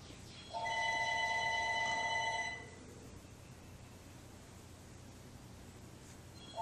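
A home landline telephone rings once with a bright electronic trill lasting about two seconds, followed by a quiet room, and the start of the next ring cuts in at the very end.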